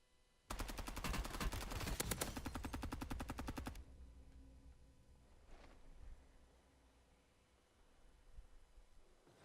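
Rapid automatic gunfire in Call of Duty Black Ops 7, a loud sustained burst of closely spaced shots lasting about three seconds, then fading to a quieter background with a faint distant pop.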